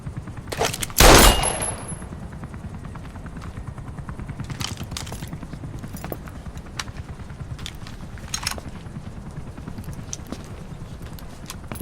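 Automatic weapon fire in the stealth-action video game Metal Gear Solid V: The Phantom Pain, with a loud, sharp burst of rapid shots near the start followed by quieter repeated popping against a steady game background.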